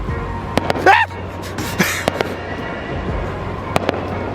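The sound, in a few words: fireworks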